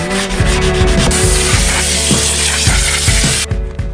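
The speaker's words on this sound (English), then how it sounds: "I'm just going to sand it out, get it nice and even" A wooden cabinet door is sanded in an even, close rasp, layered over a rhythmic mechanical clicking and rattling with a low repeating thump, fairly loud, and no one speaking.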